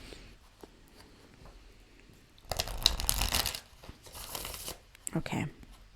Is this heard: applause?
no